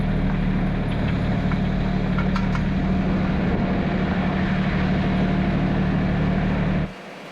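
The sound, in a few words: tractor engine running while being pulled out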